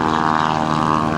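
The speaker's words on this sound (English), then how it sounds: "John Mohr is putting the stock Stearman through its paces right now" A stock Stearman open-cockpit biplane climbs during an aerobatic air show routine, its radial engine droning steadily and loudly with a rough, buzzing propeller tone and no break.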